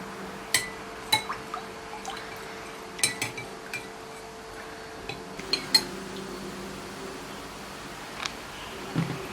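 A utensil stirs an oily water mixture in a bowl, giving scattered light clinks and taps against the container over a quiet background, with sparse liquid sounds between strokes.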